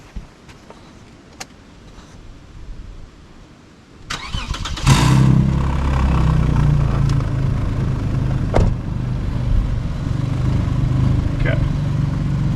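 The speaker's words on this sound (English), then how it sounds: "So let's start the vehicle up." A vehicle engine cranks and catches about four seconds in, then settles into a steady, loud running drone with a low rumble that continues to the end, with a few clicks and knocks over it.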